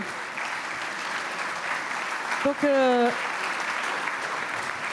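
An audience applauds steadily at a morning gathering of an industry sector, a dense even wash of clapping that lasts throughout while a single voice briefly speaks over it midway.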